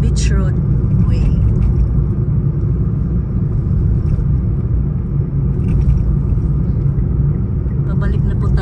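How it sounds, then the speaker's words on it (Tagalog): Heavy road traffic on Beach Road, a highway in Garapan: a continuous loud rumble of passing cars and engines, steady throughout. "sobrang traffic po sa lugar na ito"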